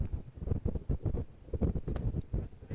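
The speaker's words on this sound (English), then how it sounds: "it is a windy day here at Bomber Field" Gusty wind buffeting a microphone at an outdoor high school baseball game, in low, uneven rumbling bursts, close and continuous with no speech.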